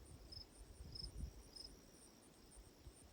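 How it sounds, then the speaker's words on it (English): Crickets chirp in faint, regular pulses beside a peaceful lake, with soft low outdoor rumble underneath and no voices. "Can you hear the crickets?"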